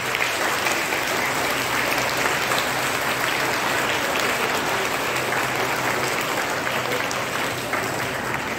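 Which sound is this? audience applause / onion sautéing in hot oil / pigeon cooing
audience applause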